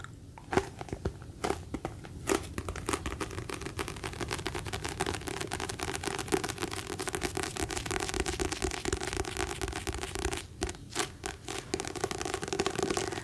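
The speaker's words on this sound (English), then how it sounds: "This book makes good gripping sounds." Dense crinkly rustling and crackling of a book's paper pages and cover being gripped and squeezed in the hands, steady and close throughout with a few sharper snaps.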